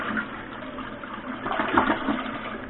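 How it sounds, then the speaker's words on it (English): A household toilet under repair flushes close by, a rushing gurgle of water swirling down and refilling for a few seconds, with no talk. "So we're going to flush the toilet."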